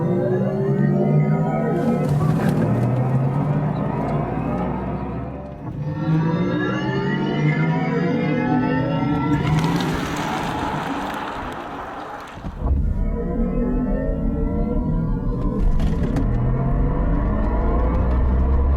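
Synthetic futuristic driving sound from a Mercedes EQS 53 AMG electric car driven in winter, a layered whirring drone that rises and falls in pitch with acceleration, steady and continuous, with no talking.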